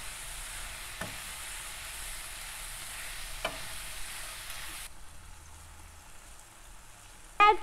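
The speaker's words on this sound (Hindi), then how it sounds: "अब हम इसमें ऐड करेंगे तीखे तीखे से स्पाइसेस, अच्छे से मिक्स करेंगे इसे" Spicy tandoori momo mixture frying in a pan as it is stirred, a steady soft sizzle with a few brief utensil scrapes and a sharper clatter near the end, heard alone without talk.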